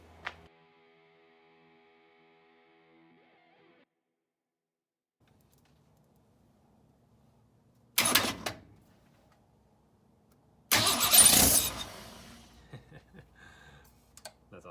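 An abandoned Ford Falcon, idle for 25 years, has gas poured into its carburetor and then gives two short, loud bursts of cranking and firing. The second burst runs longer before fading, with near-silence before both.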